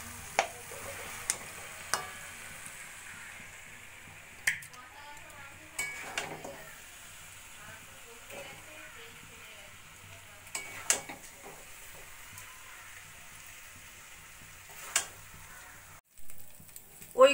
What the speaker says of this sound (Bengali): একদম কষা কষা মাংস ভাজা ভাজা হয়ে গেছে।